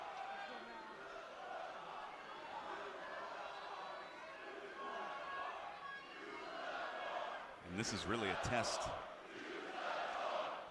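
Wrestling crowd at a STRONG on Demand match between Lawler and Homicide shouts and chants steadily in the background, swelling near the end, while a commentator talks over it.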